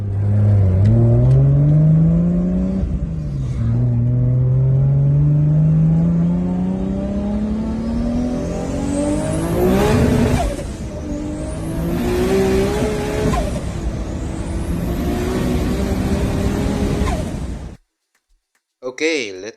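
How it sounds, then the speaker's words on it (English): A Toyota Supra's inline-six 2JZ engine fitted with a big turbo revs hard and close, its pitch climbing and falling through repeated pulls, with whooshing turbo spool rising between revs before cutting out near the end. "It's a Toyota Supra with a big massive turbo mounted to an inline 6 2JZ engine"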